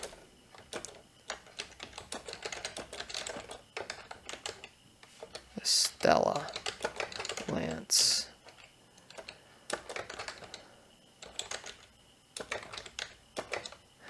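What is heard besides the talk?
typing on a computer keyboard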